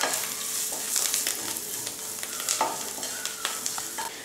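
Continuous sizzling and frying of betel leaves in a pan with occasional scraping stirs, steady and close, no voices.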